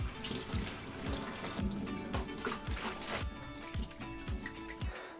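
Tap water runs steadily into a sink while the inside of a PET plastic bottle is washed, with repeated hollow thumps and sloshing from the bottle being handled under the stream.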